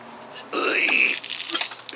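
A water tap at Camp Ozone along the Ozark Highlands Trail is turned on, starting with a sudden rush of running water that flows steadily and close for the rest of the moment.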